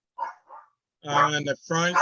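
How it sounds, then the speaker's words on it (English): A dog barks a few times in the background during an online planning board meeting, short sharp yelps early on, followed by a person speaking over the tail end. "I'm sorry for my dog."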